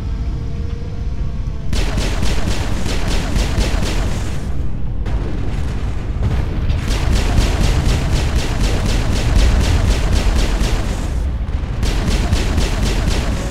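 Automatic turret cannons keep up rapid, loud rhythmic gunfire in the video game Mass Effect, running nearly nonstop with a couple of short breaks over a low rumbling background.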